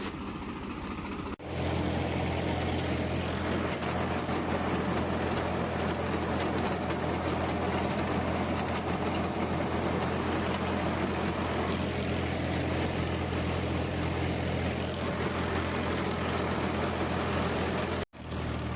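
A tractor running a rotavator drones continuously at close range with a low rumbling hum and mechanical rattle, steady throughout with no talking.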